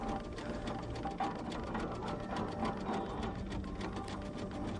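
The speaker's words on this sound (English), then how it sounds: "Keith Collins guides the 1918 John Fowler 5-ton steam tractor onto its transporter." A 1918 John Fowler 5-ton steam tractor engine runs with a fast, steady mechanical chattering and clatter, continuous and fairly quiet, with no voices.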